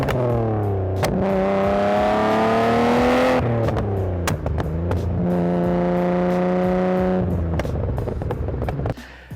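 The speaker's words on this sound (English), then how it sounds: "this great sound, this noise from this RB26" A Nissan Skyline R34 GT-R's RB26 engine revs hard and loud, climbing in pitch, easing off, then surging again in long sweeps, close by and with no talking.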